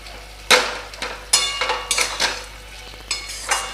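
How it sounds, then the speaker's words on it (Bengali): Potato and eggplant curry with spring onion being stirred and mashed in a pan, several separate scraping, clattering strokes with brief gaps between them, close by with no talking. "একটু ঘেটে ঘেটে দেবো এরমভাবে, যাতে বেগুনগুলো একটু গলে যায়, মাখা মাখা ব্যাপারটা আসবে।"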